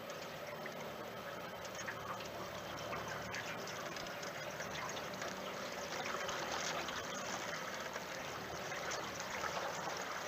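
A small boat cruises steadily through water, with a continuous wash of water and a faint motor hum throughout, fairly distant and even in level.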